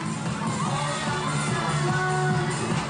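Home crowd at a women's world championship beach volleyball match in Rotterdam cheers and whoops in a sustained, dense roar, with shouts rising out of the noise throughout.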